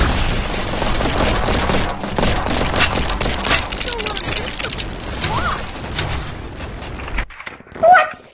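Rapid bursts of gunfire fill a shooting game in the VR game Animal Company, dense and loud for several seconds before cutting out, with a voice briefly heard near the end.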